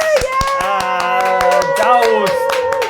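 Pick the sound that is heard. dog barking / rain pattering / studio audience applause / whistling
studio audience applause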